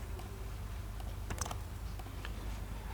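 Quick, light keystrokes tapping on a PC keyboard as login details are entered, a close, irregular run of soft clicks over a faint room hum.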